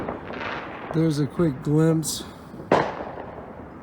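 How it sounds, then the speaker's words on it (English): Fireworks go off at a church completion celebration, with one sharp nearby bang and faint crackles under a person talking. "you can hear all the fireworks going"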